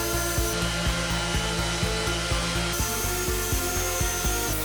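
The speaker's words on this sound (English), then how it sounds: "I'm sanding a car rim to remove the dirt solidified on its edges." Abrasive sanding scrapes across the edge of a car wheel rim to clear hardened dirt, a dense continuous rasping noise with rhythmic back-and-forth strokes, loud and close.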